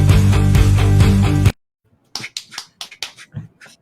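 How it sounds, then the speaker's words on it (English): A few soft, scattered polite claps, a quiet golf clap, follow a loud burst of music that stops abruptly. The claps are sparse and light, with brief gaps between them. "Golf clap. Golf clap."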